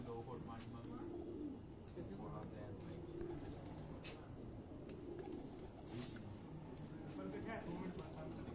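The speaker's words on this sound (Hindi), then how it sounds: "अब ये उड़ने वाले कबूतर हैं" Crossbred flying pigeons coo softly at a distance under steady background noise, with a few faint sharp clicks.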